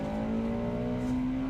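A car engine revs with a steady, slowly rising whine and hum, close and brief.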